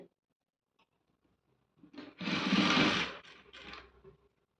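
A sewing machine runs a short burst of stitching along the side seam of a blouse, a close whirring run of about a second that slows and stops, after a quiet start with faint handling clicks.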